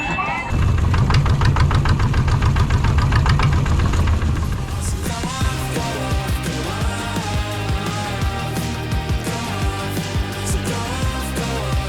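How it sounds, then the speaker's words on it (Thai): A longtail boat's engine runs loudly close by on a trip to shore at the Surin Islands in shallow water, a fast knocking chug that shifts to a lower, looser rhythm partway through. "ได้เวลานั่งเรือหางยาวเข้าไปที่ฝั่ง"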